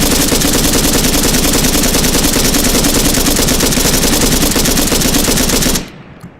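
A belt-fed machine gun in ARMA 3 fires one long, loud, unbroken burst of rapid shots for nearly six seconds, then cuts off abruptly into quiet.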